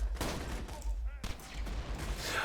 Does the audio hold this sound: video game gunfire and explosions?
yes